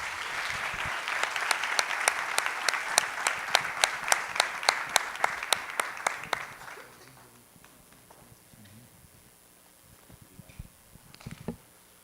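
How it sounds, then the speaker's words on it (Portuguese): An audience at a corporate talk event bursts into brisk, rhythmic applause that runs strongly for several seconds, then thins out and fades into quieter room noise with a few last scattered claps. "Uma salva de palmas, pessoal."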